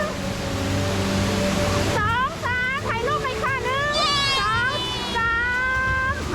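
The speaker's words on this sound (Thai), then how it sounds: "เป็นน้ำตกเป็นชั้นเป็นชั้นเป็นชั้นไปใช่ไหมคะ มันมาจากข้างบนมาจากข้างบนเลยนะสูง" Indoor multi-tier waterfall at Jewel Changi, Singapore, gives a steady broadband rushing roar that fills the whole clip, while an adult and someone talk over it.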